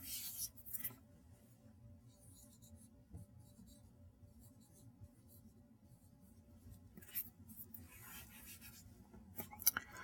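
Chalk or marker scratching across a board as equations are written in a physics lecture on nanoelectronics, soft intermittent strokes over a quiet room hum, with a louder scrape near the end.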